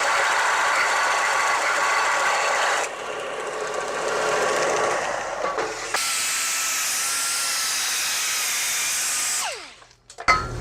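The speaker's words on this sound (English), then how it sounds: "took the little flap wheel that you see right there to kind of remove the mill scale on the end of the tubing" A small flap wheel on an angle grinder abrading mill scale from the cut end of steel roll bar tubing, a steady loud whine with shifting pitch as the wheel presses, pauses and restarts, then spins down at the end.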